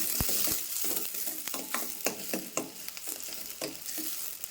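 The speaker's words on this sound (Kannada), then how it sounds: "ಈಗ ಉಳ್ಳಾಗಡ್ಡಿ ಚಲೋ ಫ್ರೈ ಆಗುತ್ತೆ" Onions fry in hot oil in a home kitchen, a soft crackling sizzle broken by repeated sharp scraping and stirring clicks of a utensil against the pan.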